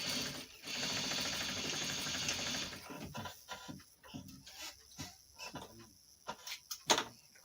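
A sewing machine stitches a seam on boxer shorts, a steady mechanical whir for about two and a half seconds, followed by quieter clicks, fabric shuffling and handling noises.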